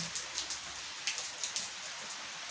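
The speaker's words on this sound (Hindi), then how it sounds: "आइए आपको मैं बताती हूँ कि कितनी ज़्यादा बारिश हो रही है।" Heavy monsoon rain falls on a village market, a soft continuous hiss with scattered sharper drops pattering on nearby surfaces, fairly quiet and with no voices.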